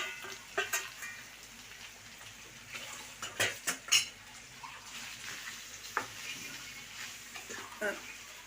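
Chicken fry pieces being stirred with chicken masala powder in a pan, dhaba style, giving irregular metallic scrapes and clinks of a utensil against the pan over a soft sizzle, with a few louder knocks.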